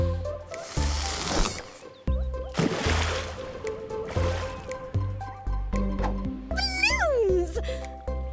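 A cartoon cat meows once in a rising and falling whine, near and clear, after lively animated sound effects and people talking.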